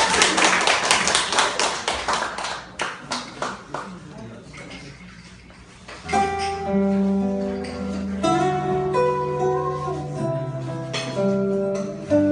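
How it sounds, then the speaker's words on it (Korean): At a small live acoustic guitar ballad concert, the audience claps along in a quick, lively rhythm for several seconds, then the clapping fades as strummed guitar and a singing voice take over. "여러분 박수 한번"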